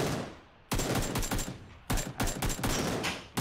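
Bursts of AK rifle fire in the video game PUBG, several rapid volleys of automatic shots cracking close and loud with short pauses between them.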